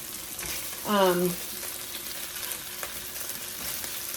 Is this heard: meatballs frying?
yes